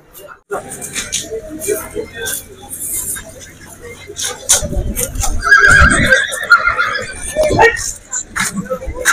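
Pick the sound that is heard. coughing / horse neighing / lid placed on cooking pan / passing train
horse neighing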